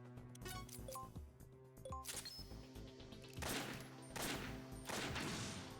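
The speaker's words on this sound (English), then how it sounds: "I shoot 3 bullets now" Sniper rifle shots in Metal Gear Acid, several faint sharp bursts later on over quiet game music and clicks, the later blasts broader and noisier.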